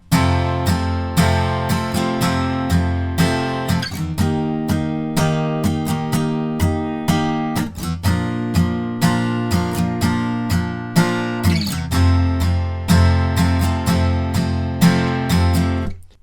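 Guitar without capo strums the repeating outro chord progression, ending on F, a full, steady rhythm of bright strokes over sixteen seconds, with no speech.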